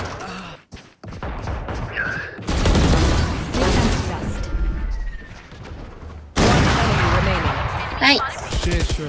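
Video game gunfire comes in two loud, sustained bursts of rapid shots, one starting early and another later, with quieter stretches and someone talking between them.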